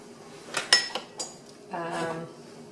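A plate is taken out and set down in a home kitchen during dal cooking, giving a few light clinks and clatters of dishes and cutlery, with a soft hum of handling near the end.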